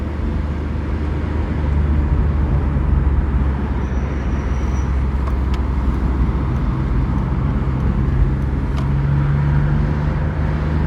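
A BMW E46 M3, head gasket replaced, accelerating in second gear with the windows down: a steady, loud engine drone with a low rising tone running throughout, plus some wind and road noise.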